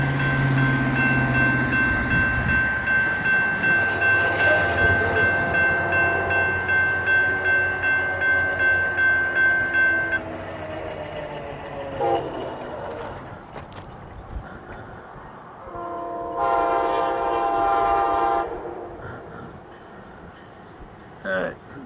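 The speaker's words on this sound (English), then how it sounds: "I hear the horn. It's gonna come around that corner or down there any second. Alright, it's gonna be loud." Amtrak train approaching a grade crossing, its horn blaring in long sustained blasts over a rumbling roar of passing cars, loud and close, with a brief second horn burst later.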